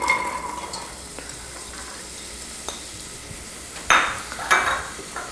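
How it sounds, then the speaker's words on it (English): A quarter onion sautéing in a dollop of olive oil in a pan, giving a low continuous sizzle with a few light clicks and two louder scraping stirs near the end, no voices. "I'm gonna add to my pan here a nice little dollop of olive oil and about 1/4 of an onion."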